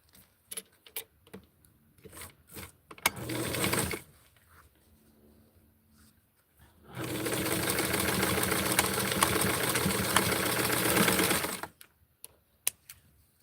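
A sewing machine stitches the back seam of a garment in two runs, a short burst and then a longer steady one, near and alone, with a few light clicks between.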